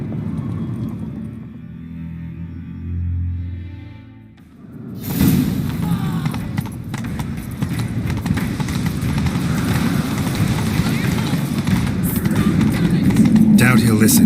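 Horse hooves galloping in The Witcher 3, a steady driving clatter with rumble that starts abruptly after a quieter opening with talk, then runs continuously and loud to the end with voices over it.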